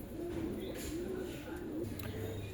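Pigeons coo in soft, repeated low throaty phrases, close by in a quiet setting with a faint background hum.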